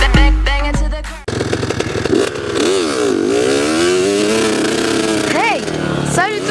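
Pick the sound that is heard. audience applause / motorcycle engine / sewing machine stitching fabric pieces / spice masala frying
motorcycle engine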